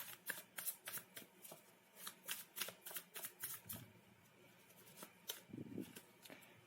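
Tarot cards are shuffled and drawn in a rapid series of crisp riffling flicks and slaps, close and fairly quiet, with brief soft handling sounds between bursts and no talk.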